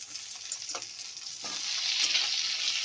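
Potatoes frying in a pan for a rohu fish curry give off a continuous bright sizzle, rising slightly toward the end, with a couple of soft stirring knocks and no talk.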